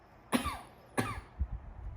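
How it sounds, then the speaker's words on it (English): Two forceful coughs from a patient clearing the airways during a chest examination, spaced about half a second apart, close and loud, with faint rustling afterward. "give me a cough to clear up your airways again"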